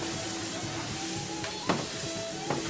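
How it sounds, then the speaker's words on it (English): Vegetables sauté in a thick paste-like roux for Cajun gumbo, a steady soft sizzle with a few sharp scrapes of a spoon against the pot. "So we're gonna saute this down"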